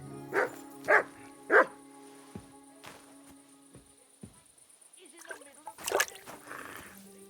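A dog in the video game Kingdom Come: Deliverance 2 gives three loud barks close by, followed by a few softer thumps, splashing water and a brief spoken line.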